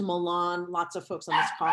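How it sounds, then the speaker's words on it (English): A pet dog barks and yips during an online community advocacy meeting, mixed in with a person talking over the call. "Sorry, that's my dog"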